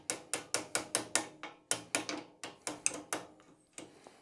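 Ratchet wrench undoing a nut on a BSA Wedge Tank, a rapid, close series of sharp metallic clicks in short bursts with brief pauses, heard alone.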